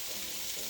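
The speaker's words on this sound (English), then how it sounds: "Y'all hear how the frying sound a little different?" Potatoes and onions fry steadily in a pan, the onions' moisture mostly cooked off, giving a dense, even sizzle that holds at close range without a break.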